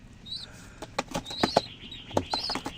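A bird flaps its wings at close range in several quick bursts of fluttering, with faint chirps between them.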